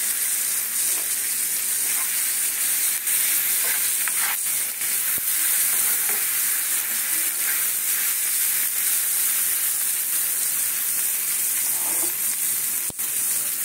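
Sesame seeds and meat sizzle loudly and steadily in a hot frying pan, a constant dense hiss with occasional sharp pops and a stirring clack, no talking.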